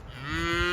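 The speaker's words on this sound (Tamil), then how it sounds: "தாத்தா தான் மாடு ஓட்டிகிட்டு வராரு." A cow moos once, a long drawn-out low call that swells louder toward the end, close by and clear, with no talking, as cattle are driven along a village road in the evening.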